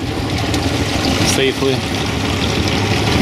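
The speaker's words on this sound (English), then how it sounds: "Engine's running good." Twin Yamaha 50hp tiller outboard motors run on a boat near a boat ramp, a loud, steady engine drone throughout with a person briefly speaking over it.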